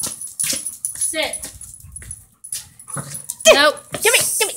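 A playful dog whines and gives short yips while playing fetch in a yard, with a person talking over it throughout and the dog's high cries rising near the end.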